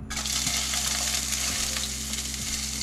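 Diced onions frying in a pan on a stove burner while cooking Jamaican chicken patties: a continuous loud, close crackling sizzle with a low steady hum beneath, no talking.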